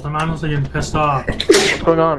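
A single sharp sneeze bursts out during online Lethal Company gameplay, loud and close on a voice chat, right after someone speaks in frustration.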